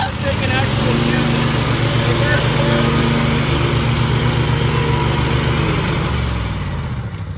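A Cub Cadet 2518 lawn tractor engine runs steadily and loud up close, a constant droning mechanical roar that tapers slightly near the end.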